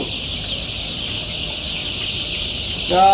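Colour bird chickens on a poultry farm keep up a continuous, dense flock murmur of clucking, with a louder, closer squawk right at the end.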